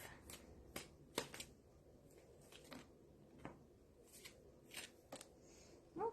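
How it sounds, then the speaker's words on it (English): Tarot-style playing cards are pulled from a deck during a live reading, a series of short, close papery snaps and slides at uneven intervals against a quiet background. "let me just pull the 3 cards to set aside here"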